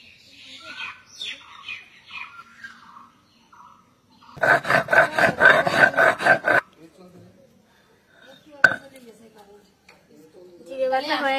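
Cumin being ground into paste on a traditional stone grinding slab, heard as a burst of rapid, rhythmic scraping strokes lasting about two seconds, with a voice speaking before and after.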